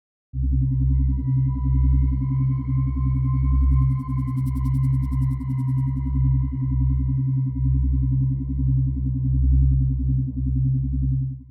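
A sustained, eerie synthesizer drone built from two sine waves, a triangle wave and a saw wave, with layered tones and a pulsing low end, with a faint fizzing texture rising briefly in the middle.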